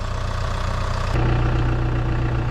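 A tractor engine runs steadily in a hay field while mowing giant hay, a loud continuous idling drone heard close by that shifts to a slightly deeper, steadier hum partway through.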